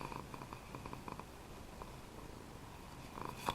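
A cat purrs softly and steadily up close with a rhythmic rumble, faint against a quiet room at a party.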